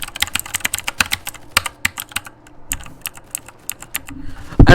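Rapid, loud clicky keystrokes on a Mechanical Eagle mechanical keyboard, an uneven clattering burst of close, sharp clacks with brief pauses, ending in a louder thump.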